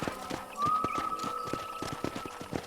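Horse hooves clip-clop at a steady walking rhythm while riding in Red Dead Redemption, close and fairly loud, with a faint tonal whine running through part of it.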